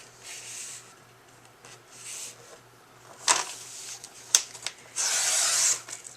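Composition book pages being cut along a line of punched holes at a quarter-inch mark, heard as soft scraping and rubbing strokes with a few sharp snips and a longer louder cutting pass near the end, close by with no talk.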